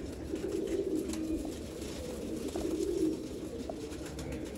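Pigeons coo softly in two low, burbling phrases, slightly distant, over a steady rooftop background hum.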